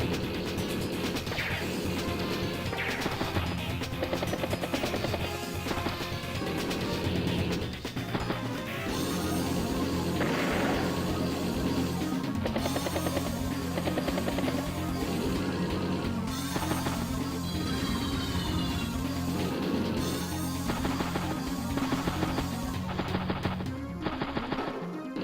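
Battle scene from Advance Wars: Days of Ruin as a command copter is destroyed: loud, continuous rattling gunfire and crashing impacts over dense game music, with no voices.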